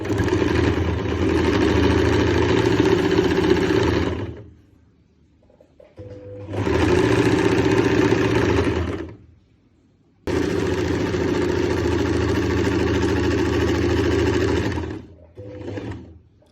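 A sewing machine stitches a hidden half-inch seam on a suit, running in three loud, steady motor bursts of about four, three and five seconds with short quiet pauses between.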